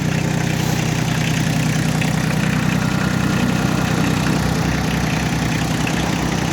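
A Kubota L1-802DT four-wheel-drive mini tractor with a tiller idles close by, its diesel engine chugging in a steady, even rhythm throughout.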